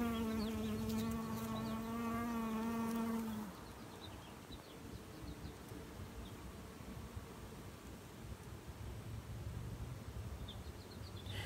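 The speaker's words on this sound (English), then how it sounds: "To stand under the tree and listen to the volume of buzz is a pretty amazing experience." A dense, steady buzzing of many honey bees around a tree fills the air, with a low droning tone dominating the first few seconds before settling into a broad hum.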